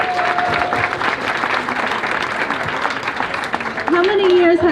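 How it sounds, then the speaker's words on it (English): An outdoor crowd at the Santa Fe Indian Market traditional Native American clothing contest applauds steadily for a young girl, with a voice speaking over the clapping and a louder voice cutting in near the end. "Give a round of applause."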